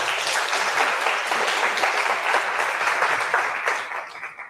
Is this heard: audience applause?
yes